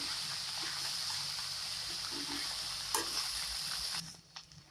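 Cabbage rice being stirred in a pan over a low flame, a steady soft sizzle with occasional scraping clinks of the spoon, faint and continuous, ending in a few quieter taps.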